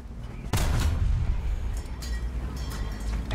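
Tank cannon fire in War Thunder with a Soviet M4A2 Sherman: a sudden loud boom lands about half a second in, followed by rumbling combat noise and several fainter distant shots.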